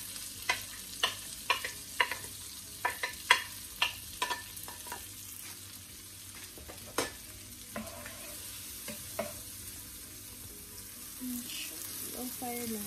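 Onions and garlic sauté over a low flame for saucy beef with mushroom and vegetables, with a soft sizzle under a run of sharp, evenly spaced spoon taps and scrapes against the pan that thin out toward the end.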